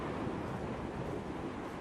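Sea waves wash onto a beach in the video game Dear Esther, a steady, broad rushing surf with a windy quality, continuous and even, with no voices.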